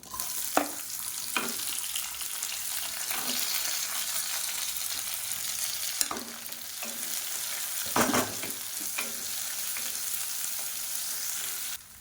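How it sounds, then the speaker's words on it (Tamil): Chopped shallots and large onions sautéing in a pan for tiffin sambar, with a steady hiss of frying throughout and a few brief, louder stirring scrapes; no one speaks. "இப்போ வெங்காயம் நல்லா வதங்கிடுச்சு."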